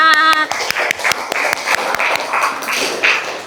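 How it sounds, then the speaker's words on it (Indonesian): A classroom of students claps for a group after a music exercise, a quick run of separate, sharp hand claps following a brief sung or played tone at the start. "tepuk tangan untuk kelompok 4"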